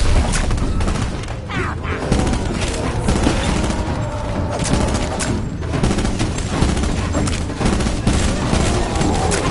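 Rapid bursts of gunfire in Call of Duty zombies crack and boom close and loud, overlapping with heavy thuds and crashes in a dense chaotic barrage that never lets up.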